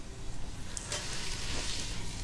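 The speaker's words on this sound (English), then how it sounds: "Sizzle, right." Soft, quiet sizzle as food hits a hot pan, a faint crackling hiss with a couple of brief louder spatters.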